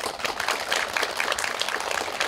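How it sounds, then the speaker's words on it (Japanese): Audience applause welcoming producer Takayuki Yamada onto the stage at a film premiere screening greeting, a dense, even patter of many hands clapping throughout, moderately distant, with no speech over it. "皆さん拍手でお迎えくださいませ"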